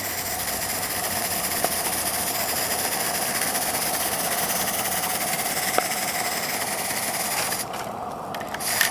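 A live steam Shay locomotive runs steadily nearby, a continuous broadband hiss and chuff with a faint low rumble, holding even until it thins near the end.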